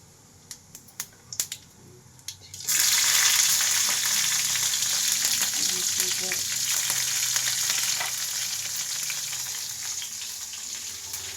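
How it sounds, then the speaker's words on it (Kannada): Tempering for upma is added to hot oil and breaks into a sudden loud sizzle after a few clicks and taps. The steady frying hiss then fades slowly, with no one speaking. "ಉಪ್ಪಿಟ್ಟಿಗೆ ಒಗ್ಗರಣೆ ಹಾಕ್ಲತ್ತೀನಿ ನೋಡ್ರಿ"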